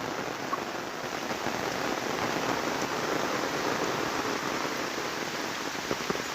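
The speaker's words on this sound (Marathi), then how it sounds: "आता पाऊस पण वाढला" Steady, dense rainfall pours down continuously, a broad even hiss of drops hitting surfaces all around, with no voices.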